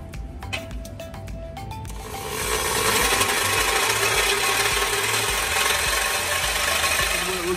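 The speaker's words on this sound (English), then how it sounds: "We're using the Diablo blade on his brand new Craftsman." A brand-new Craftsman power saw fitted with a Diablo blade cuts through the exhaust pipe of a 2020 Ram 1500, spinning up briefly, then settling into a loud, steady, harsh grinding rasp that continues without a break.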